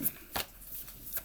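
Oracle cards being shuffled by hand: a few quick, soft riffling bursts close by, brief and papery, in a quiet room.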